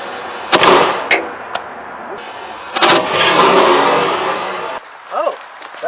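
A 3D-printed 9mm can cannon fires outdoors with a sharp, loud blast, followed by another crack and a stretch of rumbling noise, with voices near the end.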